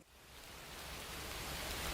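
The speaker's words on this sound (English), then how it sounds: "Uh-oh, it's raining!" Cartoon rain sound effect, a dense, steady hiss of falling rain that swells slightly louder over its short span, with no voices.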